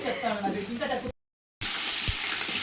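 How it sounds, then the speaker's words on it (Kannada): Bay leaves and onion hit hot oil, a bright, close sizzle after a brief stretch of talking and a short silent gap, with one stirring knock near the end. "ಬಿಸಿ ಎಣ್ಣೆಗೆ ಪಲಾವ್ ಎಲೆ, ಈರುಳ್ಳಿ ಹಾಕಿದ್ಲು."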